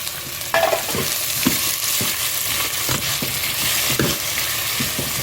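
A chopped tomato fries with radish in a pan for a tongue-fish curry, a steady close sizzle under regular scrapes and stirs of a spoon against the pan, with no talking.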